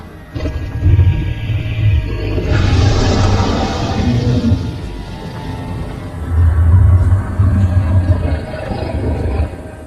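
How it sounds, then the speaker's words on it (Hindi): A cartoon ghost cow lets out deep, growling roars in long rumbling waves that rise and fall twice, loud and close, with no talk. "ये किसकी गरजने की आवाज है?"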